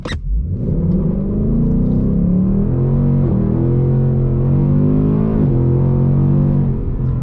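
A 2022-2023 Ford Mustang GT Premium with a 10-speed automatic, in track mode with track exhaust, accelerates hard from a sharp start. The engine note climbs loud and close, with gear shifts near the three- and five-second marks.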